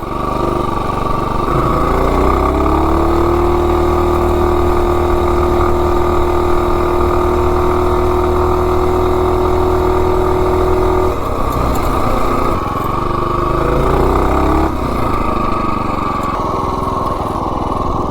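A 212 Ghost minibike engine fitted with a 24mm D slide carburetor runs loud and close, holding a steady droning pitch for several seconds before the revs drop and rise again.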